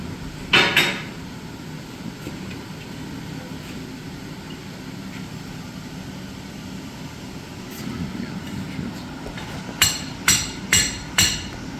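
A blacksmith strikes metal clamped in a vise, a sharp ringing blow early on and then a quick run of four loud, evenly spaced hammer hits near the end, with a quiet workshop between.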